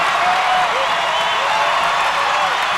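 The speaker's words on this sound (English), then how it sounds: "Listen to this crowd" A basketball crowd roars and cheers steadily in the closing seconds of a state tournament game, a loud, dense wash of voices and applause that holds at full volume throughout.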